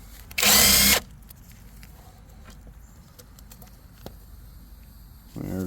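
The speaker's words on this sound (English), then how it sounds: "I'm just going to use my little cordless on here." A small cordless drill-driver spins a studded torque converter bolt loose on a 2.5L Mazda 6 engine, one loud burst of about half a second near the start, then quiet shop ambience and a second short whir at the end.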